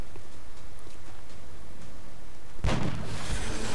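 A single sharp gunshot bursts out near the end from a weapon in the XCOM video game, cutting through a steady low background hum.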